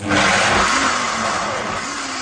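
A blender motor whirs loudly and steadily while blending tigernut milk, its pitch dipping slightly as it labors, then settling for a couple of seconds.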